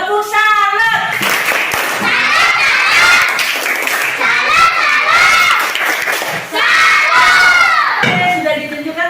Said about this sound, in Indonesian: Tepuk salam.